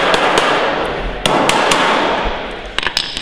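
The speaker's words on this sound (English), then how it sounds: "Tap it down with a hammer." A hammer tapping down the folded metal tin corner of a beehive roof, several sharp ringing metallic strikes spaced unevenly, close and loud, with no talking.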